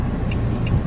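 A rented Nissan Note hatchback driving on Corfu roads, a steady low engine and road rumble from inside the cabin with no talk over it.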